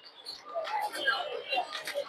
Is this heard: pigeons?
yes